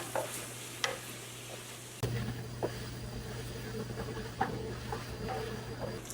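Chopped vegetables for Sicilian caponata, with tomatoes, celery and onions, sizzle steadily in a pan as they cook down, a close, continuous frying hiss with a few sharp pops and stirring clicks, no one speaking.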